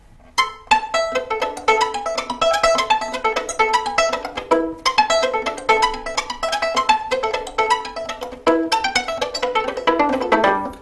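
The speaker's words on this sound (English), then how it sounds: "we use the bow at the tip to create a very pizzicato type sound" Rapid, bright plucked violin notes tumble in quick succession, a busy pizzicato-like patter of short, crisp string attacks played solo, using bow-tip strokes and left-hand pizzicato.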